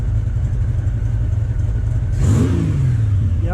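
A motorcycle engine idling steadily after carburetor synchronization, a close, low, even rumble that lifts into a short rev near the end and then drops back, no talk.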